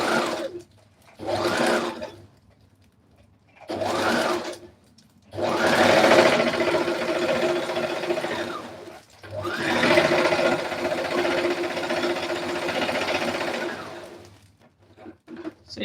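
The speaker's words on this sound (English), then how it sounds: "I'm going to sew a straight line on it and try to gather it." A sewing machine runs a straight seam on dress fabric in several bursts, short runs at first and then longer sustained stretches, a close, loud mechanical whir with brief pauses between them.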